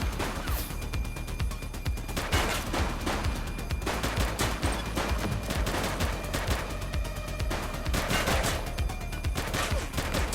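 Gunfire in the police video game The Precinct: a dense, sustained barrage of shots and impacts crackles throughout, loud and continuous, with occasional heavier bursts over a busy background.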